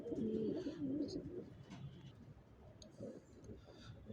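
Young racing pigeons housed on a rooftop coo in low, rolling phrases, strongest at the start and then quieter, over a continuous murmur of ambient noise.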